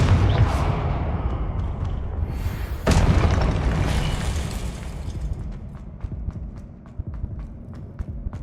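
Fire and blasting spells, Incendio and Confringo, go off in the video game Hogwarts Legacy: a heavy booming rumble with a sharp loud blast partway through, then a fading roar dotted with faint crackling pops, no voices.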